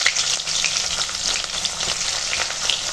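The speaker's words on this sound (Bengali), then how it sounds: "পেঁয়াজটা একটু ভেজে নেব" Chopped onions fry in hot oil after a bay-leaf tempering, giving a steady, dense sizzle that stays loud and even throughout, with faint stirring underneath and no talking.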